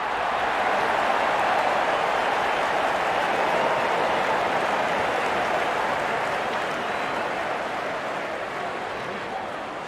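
Steady broad applause from a large cricket crowd at an India versus Pakistan final, a continuous dense wash of clapping and crowd noise that holds level throughout and eases off only slightly toward the end.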